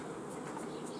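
Honeybees hum around a hive filled with honey, a faint, steady buzz in the background with occasional brief louder passes of single bees.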